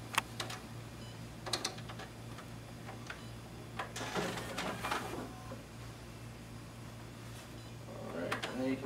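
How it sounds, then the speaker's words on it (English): A Xerox WorkCentre 5225 copier's document feeder pulling two test sheets through, heard as close mechanical clicking, ticking and whirring bursts over a constant low hum, with a person talking at times. "See, we have our document feeder working properly."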